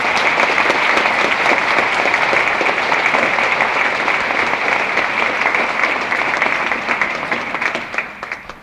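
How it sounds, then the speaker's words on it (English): Sustained applause from a large crowd at a 1969 college centennial festival banquet, dense steady clapping that fills the room and fades at the end. "Now you can give them all the applause."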